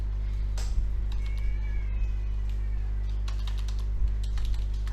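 Sparse keyboard taps as a host name is typed on a computer, faint clicks over a loud steady electrical hum, with a short meow-like squeak in the background.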